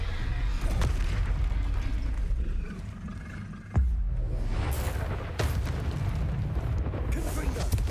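Confringo explosive spell blasts in Hogwarts Legacy, heavy booming bursts with sharp impacts over a dense rumble of combat noise, repeated several times in quick succession.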